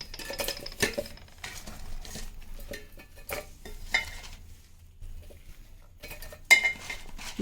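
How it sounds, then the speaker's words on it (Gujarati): Crushed wheat muthiya handled into a mixer jar in a home kitchen: soft scattered clinks, rustles and utensil taps with quiet gaps, close and fairly faint, no talking. "હવે આપણે આમને મિક્સર જારમાં નાખી દઈશું."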